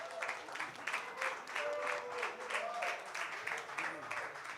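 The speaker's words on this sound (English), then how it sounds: "One more round of applause for yourself" Audience at a tech conference livestream, the Onchain Summit in San Francisco, applauding in a steady mid-distance wash of clapping for the full stretch, with a voice speaking briefly over it.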